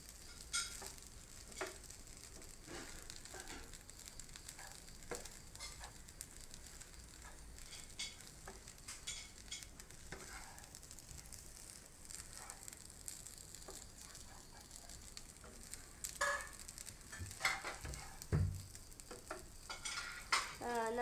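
Salted food frying in a pan makes a soft, continuous sizzle. Intermittent scraping strokes of stirring come through, growing a little busier toward the end.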